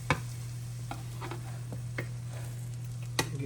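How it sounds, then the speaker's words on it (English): Eggs stirred in a hot pan at home, a low steady sizzle under a constant hum, broken by a few sharp spatula taps and scrapes. "Let's get his eggs stirred up, honey."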